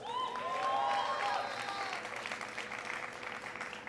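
Applause from the audience at EA's E3 press conference, a steady burst of clapping that swells in the first second, then gradually thins and fades.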